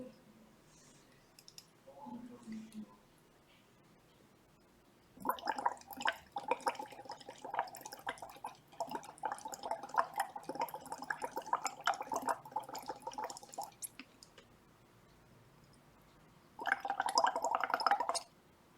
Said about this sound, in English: blow some carbon dioxide into this lime